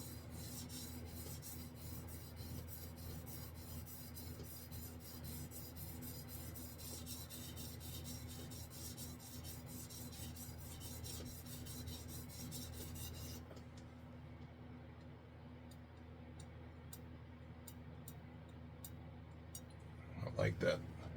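Steady rasping strokes of a Japanese chef knife worked across a whetstone, continuous and close, fading to quieter scraping near the end, with a voice talking over it.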